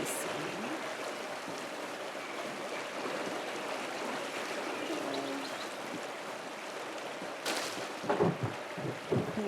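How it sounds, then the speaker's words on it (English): A waterfall in the Pentiment video game pours in a continuous, even rush of water, with a few faint chirps near the end. "The waterfall is always so beautiful."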